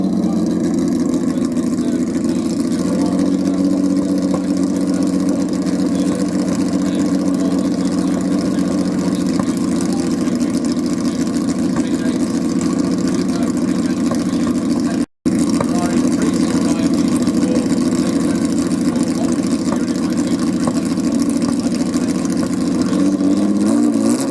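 An old classic car engine at a concours of elegance drones and revs steadily at a steady mid pitch for a long stretch, with a brief dropout partway through.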